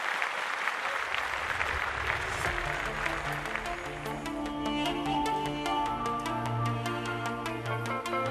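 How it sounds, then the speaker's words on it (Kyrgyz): A concert audience gives dense, sustained applause, loud and continuous, and a sung or played tone begins to emerge beneath the clapping toward the end. "кол чабуулар менен бул жакка чакырып алсак"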